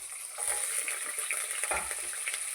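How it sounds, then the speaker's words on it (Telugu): Carrot pieces hit a hot pan of oil for spicy mint rice, giving a soft, steady sizzle with a few light stirring clatters, fairly faint and with no talk. "ఇది క్యారెట్ ముక్కలు వేస్తున్నాను"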